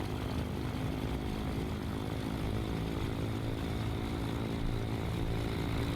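Simulated piston engine of a Chancellor 414 twin-engine aircraft in Microsoft Flight Simulator 2020, a loud, continuous propeller drone with steady tonal hum and no talking.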